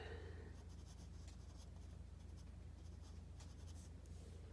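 A pencil draws on paper, soft scratchy strokes in quick irregular bursts, close but quiet against a low steady hum.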